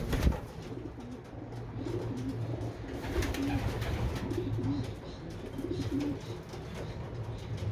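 Racing pigeons in a loft coo repeatedly, soft rolling calls recurring in a steady rhythm at moderate distance over faint background rustle and noise, no talk heard.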